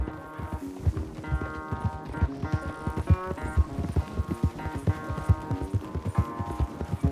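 In Red Dead Redemption, rapid hoofbeats of a galloping horse racing pound steadily throughout, with a tonal musical layer running underneath.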